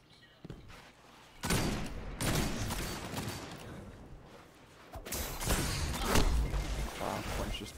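Video game gunfire in a first-person shooter, a few loud bursts of shots and muffled impacts set against background game noise, with players' voices faintly mixed in.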